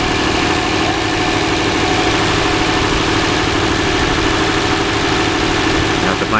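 A 1966 Valiant engine idles steadily while warming up, a loud, continuous low rumble with constant vibration and no break in level, heard close up on its own.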